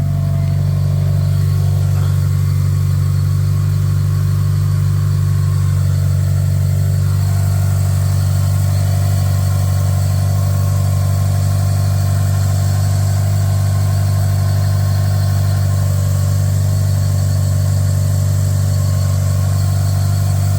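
Mitsubishi Evo 9 engine idling after a 30k belt service, a loud, close, steady low drone with smoothly running belts and a slight shift in tone early on, holding even for the full length with no talk.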